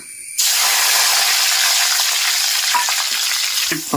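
Green chillies drop into hot oil for a Kerala village-style rasam, bursting into a loud, steady, close sizzle that holds for several seconds before a few clinks at the end.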